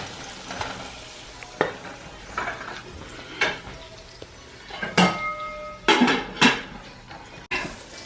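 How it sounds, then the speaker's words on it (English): A spoon stirs onions in a cooking pot while they sizzle, with scattered clanks of metal against the pot at close range and a soft frying hiss underneath. "French onion to the pot as well and just stir it all in."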